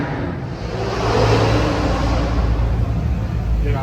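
A car pulls away from a garage Cars and Coffee meet, its engine revving and swelling as it accelerates, mid-distance and steady over crowd noise, with some speech nearby.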